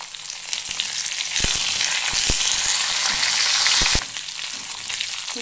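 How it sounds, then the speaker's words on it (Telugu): Dried red chillies and curry leaves fry in hot oil, giving a loud, steady sizzle with a few sharp crackles and a brief surge of hissing, close and without talk. "ఎండుమిర్చి కట్ చేసుకొని వేసుకోండి, కరివేపాకు."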